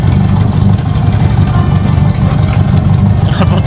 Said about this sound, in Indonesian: mesin masih lumayan bagus loh, sekelas mobil tua seperti itu ya